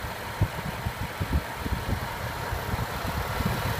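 A 2014 Jaguar XF with a supercharged 3.0-litre V6 idles at close range, giving a steady low rumble with soft, uneven pulses and no voices over it.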